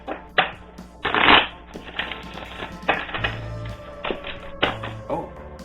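Oracle cards being shuffled by hand, with a burst of riffling and several softer shuffles and taps in a row, close and fairly loud, with no talking.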